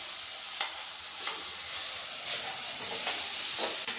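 Vegetables and tomato sautéing for sambar in a pan, a steady bright sizzle with a few faint stirring clicks, close and continuous with no talk.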